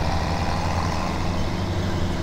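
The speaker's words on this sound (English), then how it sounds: "Case fertilizer tractor" A Case fertilizer tractor drives in Farming Simulator 17, giving a steady, loud, low diesel engine drone that holds evenly throughout without voices.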